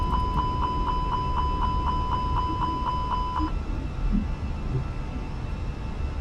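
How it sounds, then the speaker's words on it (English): A steady train of evenly spaced electronic cockpit warning beeps sounds in an Airbus A320 cockpit in a flight simulator, about a dozen quick pulses that stop abruptly midway, leaving a constant hum of cabin and engine noise. "Why have I got beeps and bobs and stuff?"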